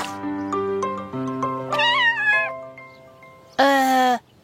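Cartoon kitten meowing in a children's animated show, a run of high, sing-song meows with one long rising caterwaul near the start and a bright, strained meow near the end, with no talking.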